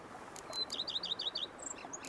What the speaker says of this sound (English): peace and quiet, bees buzzing, birds chirping